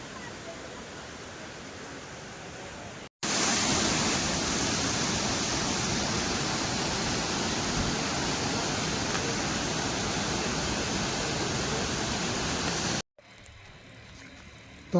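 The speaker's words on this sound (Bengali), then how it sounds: "এই যে ওই উপর থেকে জলটা পড়ছে, উপর থেকে পড়ছে, পুরো দুধের মতো লাগছে" A tall waterfall in Meghalaya, India's sixth highest, roaring as a dense, steady rush of falling water for about ten seconds, with quieter ambient stretches before and after.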